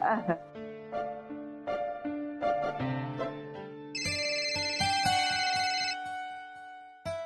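A telephone ringtone plays as a call is placed in a domestic television drama scene, a melodic electronic tune repeating its phrase for several seconds, loud and close.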